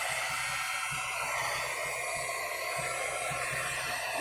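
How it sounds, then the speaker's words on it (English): Heat tool blowing hot air onto embossing powder, a steady loud broadband roar like a hair dryer that runs unbroken and alone from start to finish. "Get my heat tool over here. Get a little bit heat up."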